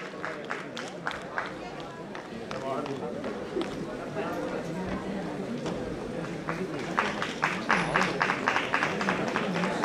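Audience applause at a college annual day award ceremony, steady dense clapping throughout that swells louder near the end, with a voice speaking faintly underneath.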